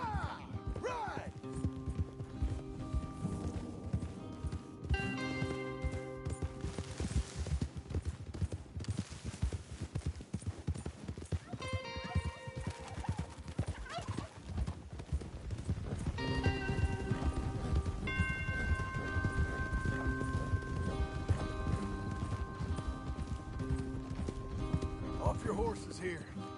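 Horses galloping in a western video game, a continuous rapid drumming of hooves under a music score and spoken dialogue, swelling louder in the latter half.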